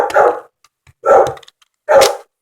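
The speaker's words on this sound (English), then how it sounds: "That's just my dog barking." A dog barks three times in quick succession, close and loud, with short silent gaps between each bark, indoors.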